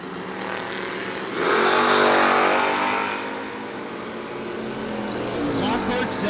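Drag-strip launch of a Pontiac Firebird against a Chevrolet Chevelle at the IHRA World Finals, engines roaring loud and building to a peak before easing, with an announcer talking over the racket.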